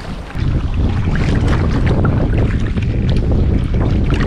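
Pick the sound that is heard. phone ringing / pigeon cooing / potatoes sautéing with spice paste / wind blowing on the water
wind blowing on the water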